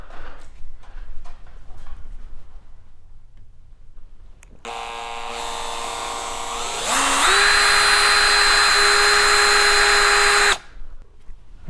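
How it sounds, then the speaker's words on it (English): A power drill with a 9/64 bit bores holes into a 2006 Mastercraft Maristar boat, a close, loud high whine that rises in pitch as the motor speeds up, running steadily for several seconds before stopping, with quieter handling noises before it. "we've got our 9/64 bit in our drill"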